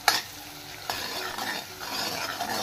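A spoon stirs garam masala into tempering in a cooking pot ahead of dal and spinach, with a sharp clink at the start, a second knock, then scraping strokes over a soft sizzle.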